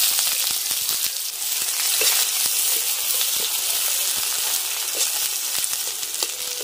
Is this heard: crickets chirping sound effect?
no